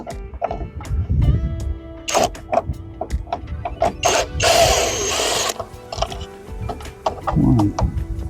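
Close, crisp ratchet clicks and small mechanical taps as two screws are removed from a Toyota Tacoma side mirror during a turn signal install, with a brief rushing burst midway.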